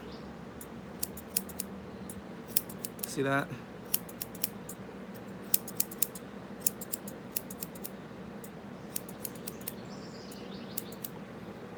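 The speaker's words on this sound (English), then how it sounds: "with your scissors pointing to the tip of the ear" Crisp scissor snips repeat close by in irregular bursts as shears trim an English Cocker Spaniel's ear fur, with a brief spoken remark partway through.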